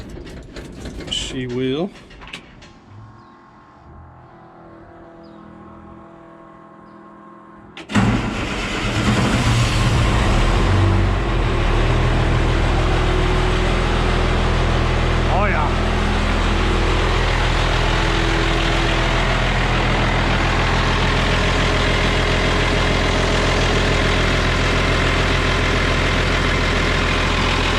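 An International Loadstar truck engine cranks and catches near 8 s, then settles into a loud, steady low-frequency idle that runs to the end, with a few spoken words heard beforehand.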